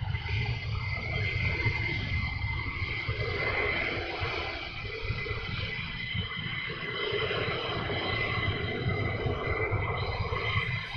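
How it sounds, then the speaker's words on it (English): A military jet roars steadily on departure at RAF Lakenheath, a loud, continuous broadband rumble that holds without a break and is heard alone. "once he's on the runway, I will go quiet and you can listen to the roar"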